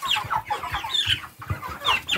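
Semi free-range chickens cluck steadily in a close, busy chorus of short repeated calls, loud and alone with no talking over them.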